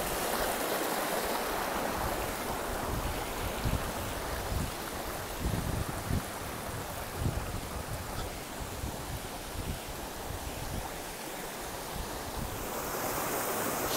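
A Himalayan waterfall roars continuously from a short distance, a broad rushing wash of falling water with gusts of wind buffeting the microphone.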